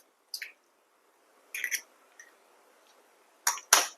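Two eggs cracked into a pan over caramel for a bun pudding: short sharp taps and wet drips in separate bursts, one at the start, one mid-way and a louder pair of cracks near the end, with quiet gaps between.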